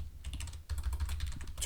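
Quick, light keystrokes on a computer keyboard, a short burst of close typing with no talk over it.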